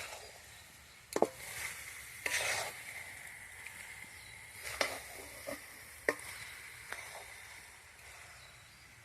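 A coconut and jaggery mixture being stirred in a pan, with soft scraping sweeps and a few sharper knocks of the spoon spread irregularly over a quiet, faintly sizzling background.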